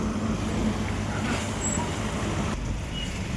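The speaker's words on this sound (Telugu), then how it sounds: "వచ్చింది బస్ వచ్చింది." A bus pulls up on a busy road, its engine rumbling under steady traffic noise, with a brief hiss that could be air brakes.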